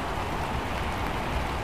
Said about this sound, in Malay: Hujan daripada tadi tak berhenti.